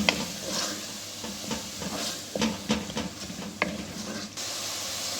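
Food sizzles in a pan as boiled lentils are stirred into a karela fry, a spoon scraping and stirring, with scattered knocks and clinks over a steady frying hiss.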